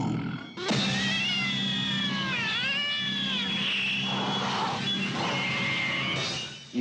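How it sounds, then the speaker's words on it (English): A cat gives a long, loud run of drawn-out yowling meows and caterwauls, rising and bending in pitch, close to the listener, with no talk over it. "Years ago, people used to believe a cat was the devil in disguise."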